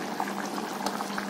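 Chicken stew thickened with cornflour bubbles on a high gas flame in a pressure cooker, a soft continuous boiling with small pops and gurgles, close and fairly quiet, with no voices.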